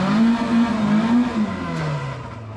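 A Ford Escort Mk2 engine revs loudly and close by as the car drives out of a dyno, its pitch wavering, then dropping steadily under a continuous roar.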